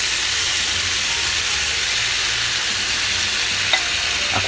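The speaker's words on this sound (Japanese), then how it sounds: "タレをね、入れていきましょう。" Pork belly sizzling in a hot pan as a seasoned sauce is poured in, with a steady loud hiss and steam filling the clip and a brief clink of utensil near the end, no talk.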